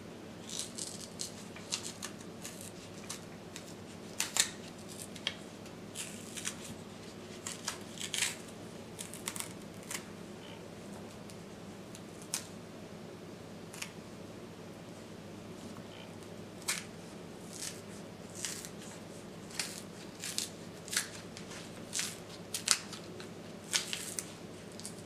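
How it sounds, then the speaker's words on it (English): A plantain being peeled by hand for a jibarito plantain steak sandwich, heard as quiet, scattered crisp snaps and rustling tears spread across the whole stretch over a low steady background hum, with no talking. "Peel the plantain."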